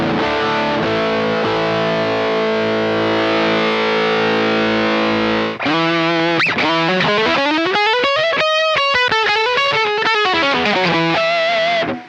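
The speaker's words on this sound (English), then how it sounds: "If I turn the gain up on the other side too, I can get really dirty sounds." Heavily distorted electric guitar, first a sustained crunchy chord, then a run of gritty single notes climbing and falling, loud and close.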